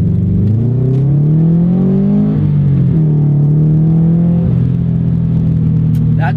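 Subaru BRZ engine rumbling loudly from inside the car as it accelerates, pitch rising through the gears with brief shift dips, a steady close drone throughout.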